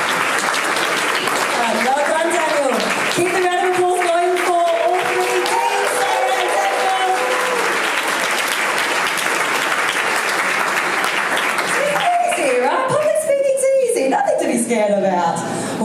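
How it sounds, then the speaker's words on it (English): Sustained applause from a crowd at a public-speaking talk fills the whole stretch while a voice speaks loudly over it. "Keep the round of applause going for all three teams."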